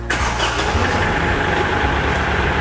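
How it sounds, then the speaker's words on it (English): Kioti CK SE series tractor diesel engine cranks and catches, then settles into a loud, close, rough idle with a steady low rumble throughout. "go ahead and start the tractor."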